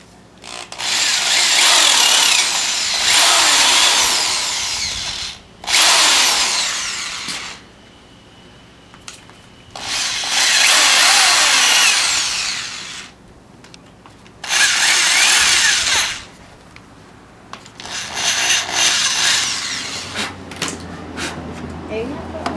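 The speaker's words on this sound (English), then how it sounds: "So we have our two marks that I need to drill to place these dowels on." A power drill whirs loudly in several bursts of a few seconds each, drilling dowel holes in pallet wood, separated by short pauses, close by.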